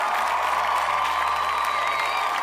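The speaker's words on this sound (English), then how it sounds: "Hand claps to you." Applause from a crowd, a steady wash of hand clapping with scattered cheers that stays loud and even the whole way through, with no talk over it.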